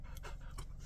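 A pet dog pants rapidly and rhythmically close by, quick breathy huffs repeating steadily with no talking.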